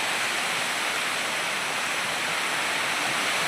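Water rushing strongly through a farm: a loud, steady, broadband roar like a torrent, constant with no breaks and no voices.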